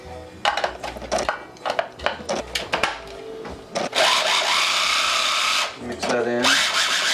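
Food processor pulsing a tuna mousse mixture with added pepper, a series of short loud whirring bursts followed by a longer continuous run, with talk in between.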